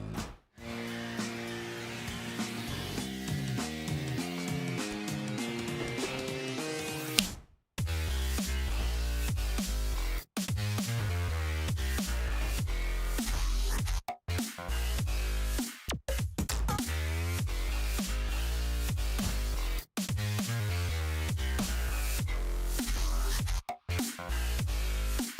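Glitch hop track, dense and loud with pounding bass, layered synth chords and choppy edits that cut out sharply in brief gaps throughout, playing alone without any talking.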